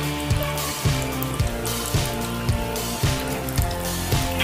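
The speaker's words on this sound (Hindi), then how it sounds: "पानी खींचने वाला वाटर पंप बनाया है।" A small 12-volt DC motor water pump runs on a 12-volt battery, pulling water from a small stream. It makes a loud, steady series of rhythmic thumps about twice a second over a continuous wet, hissing churn.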